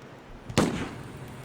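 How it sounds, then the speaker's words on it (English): A single sharp gunshot cracks out in Palestine, loud and close, followed by a short decaying echo with no talk over it. "gunfire."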